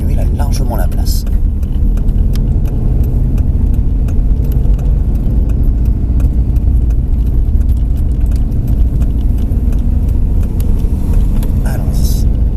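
On a racing circuit during a driving course, a car's engine rumbles steadily and loudly from inside the vehicle while another car passes, with talking over the engine noise.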